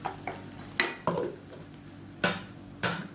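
Spice paste being sautéed for fish curry in a pan over medium flame, with sharp spatula scrapes and clinks against the pan over a faint low sizzle, close and sparse.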